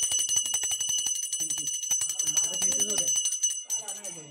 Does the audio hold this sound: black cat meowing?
no